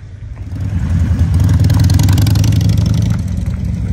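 Motorcycles rev at an old-style car and bike weekend in Sweden, a loud, close engine roar that swells and holds before easing off.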